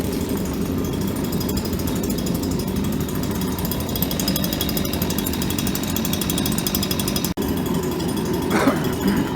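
A rocket stove steam boiler burner fed a waste oil and diesel mix roars steadily with a harsh, rapid pulsing rattle, loud and continuous, with a brief dropout near the end.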